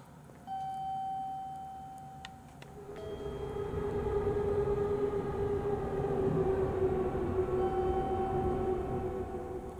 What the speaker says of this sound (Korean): 열차 한번 살펴봐야겠다. 열차 살펴보지 못했어.